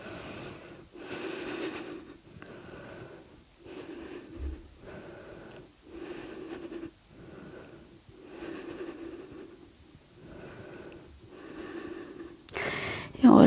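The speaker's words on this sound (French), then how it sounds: "On respire, on rentre le nombril." Steady breathing during a yoga pose in an intermediate morning flow session, with about a dozen slow, evenly spaced breaths, each drawn and released, close and fairly soft, ending in a brief louder rustle.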